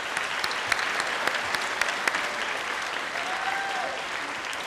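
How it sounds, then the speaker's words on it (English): A large audience applauds the school staff at a high school commencement ceremony. The sustained, even clapping of a big crowd fills the hall, steady and fairly loud throughout, with a few sharper claps standing out nearby. "Let's applaud the staff"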